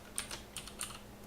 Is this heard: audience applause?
no